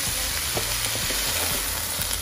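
Fish fries in a pan with a loud, continuous sizzle and crackle, punctuated by a few soft stirring knocks, with no voices.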